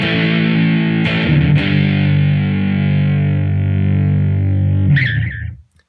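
Electric guitar played through a Mooer PE-100 pocket multi-effects unit gives a sustained, heavily distorted chord ringing loud and steady, then a brief higher scrape near the end before it cuts off into silence.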